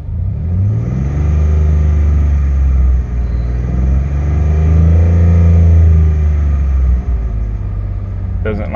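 A Dodge Nitro 4.0 engine, which is slow to return to idle, runs close by with a deep, steady rumble that swells as it revs and then falls back.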